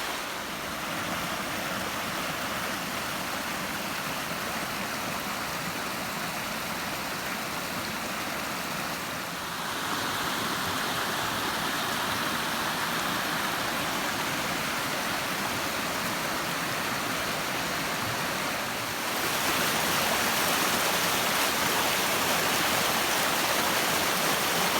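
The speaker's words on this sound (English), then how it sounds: "Water running down off the hills, even though it hasn't rained for at least 48 hours." Running water rushes steadily down off the hills on the South West Coast Path, a broad continuous splashing flow like a stream or small cascade, growing slightly louder in steps.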